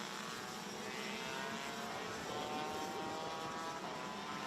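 Rotax Max racing kart with a noisy exhaust at a Winter Cup race, part of a steady, loud engine drone that fills the whole stretch with no break and no talk.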